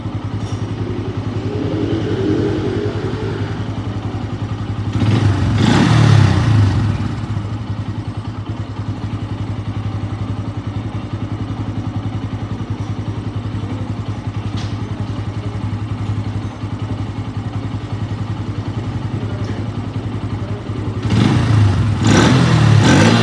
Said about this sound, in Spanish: la moto ya acelera chido, ya no se apaga, se mantiene bien